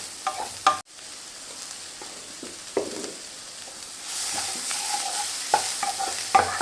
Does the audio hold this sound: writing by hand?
no